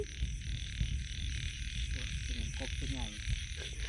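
Frogs croak repeatedly at night in rice paddies during a frog-catching outing in rural Thailand, with a steady chorus of insects and croaks droning underneath.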